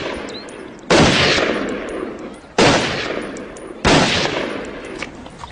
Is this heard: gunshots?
yes